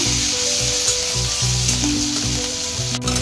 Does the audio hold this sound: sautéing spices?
yes